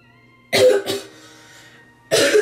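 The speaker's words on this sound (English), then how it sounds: "Excuse me, cough attack." Two quick coughs close together, a brief pause, then another harsh cough, loud and near.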